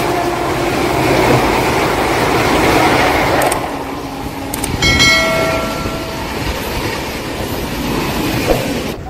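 Pinakini Express train at Vijayawada Junction, heard as a steady loud rumble of rail cars with clattering wheels, a sharp metallic squeal and brief horn-like tones partway through.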